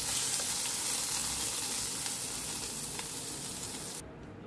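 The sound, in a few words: sizzling tadka of cumin, asafoetida, curry leaves, green chili poured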